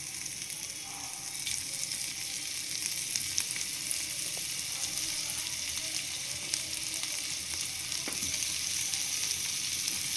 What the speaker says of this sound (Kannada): ತುಪ್ಪ ಎಲ್ಲ ಬಿಸಿಯಾಗಿದೆ. ನೆಕ್ಸ್ಟ್ ಈಗ ಪನ್ನೀರ್ ಹಾಕ್ಕೊಳ್ಳೋಣ ಒಂದೊಂದೇ.